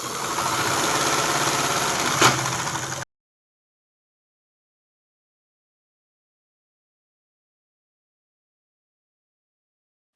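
A sewing machine runs steadily while stitching a kurti, a close continuous mechanical whir with a single sharp click near the end, then the sound cuts off abruptly into silence.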